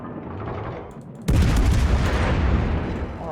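A heavy ship gun salvo from the cruiser Napoli in World of Warships booms in suddenly after a quieter rumbling stretch, then a loud sustained roar and rumble follows, with no talking.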